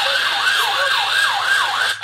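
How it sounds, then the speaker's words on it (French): A police siren on a vehicle with a flashing light wails in a steady rising and falling cycle, loud and close, repeating about four times. "un autre véhicule roulant avec gyrophare et sirène sans qualité"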